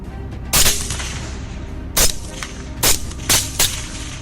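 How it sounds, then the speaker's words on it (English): Gunshots from hunters shooting wild boars at night in fields, several sharp reports spaced irregularly over a few seconds above a steady rumbling background. "Gunshots rang out continuously."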